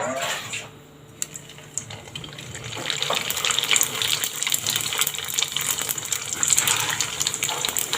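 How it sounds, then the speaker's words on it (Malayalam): Kilikoodu bird's nest snacks fry in hot oil over a medium flame, producing a continuous bubbling hiss that grows louder and denser partway through and stays steady to the end. "മീഡിയം ഫ്ലെയിമിലിട്ടാണ് ഫ്രൈ ചെയ്തെടുക്കുന്നത്"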